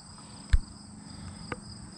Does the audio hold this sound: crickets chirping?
yes